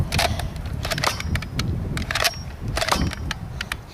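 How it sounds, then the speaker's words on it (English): A vintage Nerf Max Force Rattler blaster fires Rival foam rounds in a quick series of sharp snapping shots with mechanical clacks between them, close and fairly loud. "so now we're shooting rival rounds out of the Max Force Rattler"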